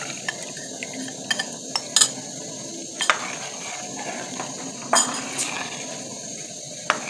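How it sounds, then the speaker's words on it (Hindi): Cornflour being stirred into two kilos of boiled milk with a spoon, soft metallic clinks and scrapes against the pot at irregular moments over a quiet background hiss. "तो ये डाल देंगे थोड़ा थोड़ा करके और इसमें चम्मच चलाएंगे"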